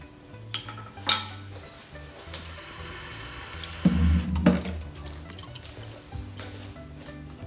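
Ragi millet grains are rinsed in water in a metal vessel: a sharp clink, then a short swishing slosh of water midway, with quiet gaps and faint clatter between.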